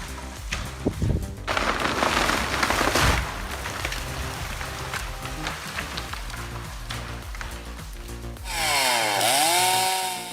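An MS-462 chainsaw makes felling cuts on a tree: a loud, steady broadband cutting roar that ends in a rising and falling high engine whine as the saw revs near the end.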